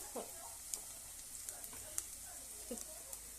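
Cashews sizzling as they are added to a hot pan of ghee or oil for ghee rice, a faint steady crackle with scattered sharp pops and light stirring clicks, while a voice speaks softly at times.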